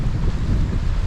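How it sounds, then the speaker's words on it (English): Gale force wind buffets the microphone on the coast at Newport, South Wales during sea fishing, a loud continuous roar with rumbling gusts and no voices. "Gale force winds, you know."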